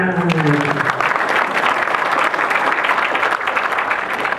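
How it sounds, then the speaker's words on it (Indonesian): A hall audience at a religious student gathering breaks into sustained applause, loud and continuous, with a voice briefly audible at the start. "Bukan buat saya tepuk tangannya, tapi buat kebersamaan umat"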